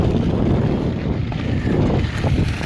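Strong wind buffets a microphone high on a hilltop trail above the Colorado River near Hoover Dam, a loud, continuous roar that surges and rumbles with no pauses.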